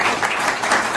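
A classroom of students bursts into enthusiastic applause for a fellow student, dense rapid clapping filling the room at close range for the full second, loud and sustained.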